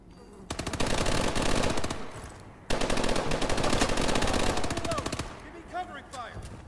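Rapid automatic gunfire from the Call of Duty: Advanced Warfare video game, two long sustained bursts separated by a brief pause, loud and close, followed by fainter scattered game sounds.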